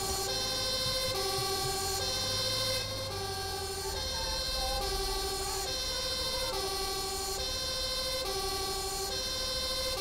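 Fire truck siren from the video game GTA 5, a loud two-tone wail alternating in a steady repeating pattern over an engine rumble, with no talking.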